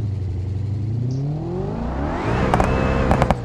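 A 3.5 litre V8 from a Civet revs in an Ibishu Diadem in BeamNG Drive, the engine note climbing steadily upward, loud and close, ending in a few sharp clacks.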